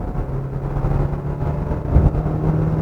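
A 2026 Hyundai Kona Hybrid's naturally aspirated engine pulls under full throttle, a steady droning hum with a low tonal line that holds throughout and swells briefly near the two-second mark, heard close from inside the car without talk.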